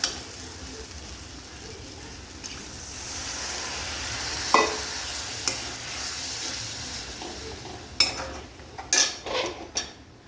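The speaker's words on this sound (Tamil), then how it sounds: "கரைச்சி வச்ச புளி ஊற்றிக்கலாம்." Tamarind water goes into simmering kovakkai puli kuzhambu after the onion masala has fried until the oil separates, giving a steady low sizzle and hiss with scrape-and-clink stirring taps in the final seconds, no voices.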